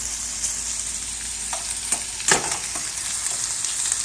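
Large shrimp, big enough to pass for prawns, sizzle steadily in a hot pan, with a few sharper crackles and pops breaking through the continuous frying hiss; no one speaks.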